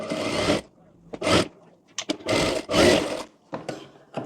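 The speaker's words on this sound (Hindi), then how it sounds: "अब यहाँ पर इसको अंदर की तरफ फोल्ड कर कर सिलाई लगा लेंगे हम" A sewing machine stitches an inward-folded edge on a boat neck princess cut blouse in short separate bursts of whirring, each about half a second long, broken by brief pauses and a few quick clicks.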